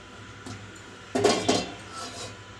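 A metal kadai clanks onto a kitchen stove, with a small knock followed by a louder cluster of metallic clatter and rattle, close and clear against a quiet room.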